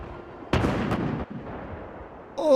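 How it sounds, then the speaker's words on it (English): A grenade launcher fires in the zombie survival game Project Zomboid: a loud close blast booms and trails off over a heavy rumble, followed by a second sharp burst near the end. "the nade launcher is pretty good"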